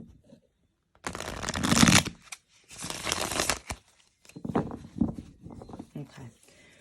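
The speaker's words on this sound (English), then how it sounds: "More shuffle, guys." Tarot cards being shuffled by hand, in three rough riffling bursts separated by short pauses, close and fairly loud, with the last stretch softer and more broken.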